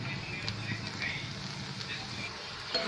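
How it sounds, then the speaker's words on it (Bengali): Onions fry in a pan with a steady, even hiss and faint crackle throughout, with no distinct pops. "তাহলে আমি পেঁয়াজটাকে ভেজে নিচ্ছি"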